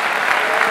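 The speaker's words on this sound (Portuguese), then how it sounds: "uma salva de palmas pro Tite" A stand-up comedy audience applauds for Tite, dense steady clapping filling the whole moment at close, even loudness.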